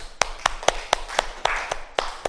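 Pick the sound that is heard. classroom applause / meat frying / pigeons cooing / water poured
classroom applause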